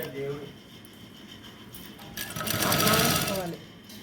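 A tailor's sewing machine stitches a neck hem strip in a quiet workshop, running in a short close whirring burst after soft handling noises, while someone talks.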